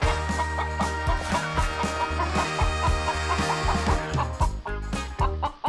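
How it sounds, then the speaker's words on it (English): Chickens cluck loudly and repeatedly on a hen coop farm, with several birds calling in busy overlapping bursts and no talk. "There's a chicken."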